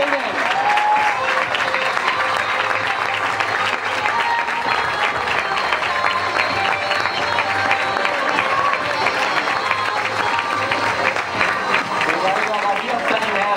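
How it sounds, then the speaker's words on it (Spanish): A large crowd at a youth football club's season team presentation applauds steadily and loudly without pause, a dense wash of clapping with scattered voices underneath. "Un fort aplaudiment, sisplau."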